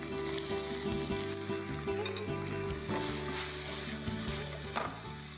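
Chicken sizzles and fries steadily in a pan with chili sauce and broccoli, a continuous close hiss with light stirring beneath background music.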